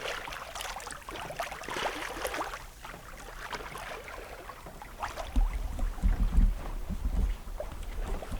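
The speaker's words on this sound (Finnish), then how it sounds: "Sieltä tulee taas tuulta." Wind gusts rush across a sailboat on a Finnish lake, a steady breathy roar with buffeting thumps that swell louder toward the end, no voices.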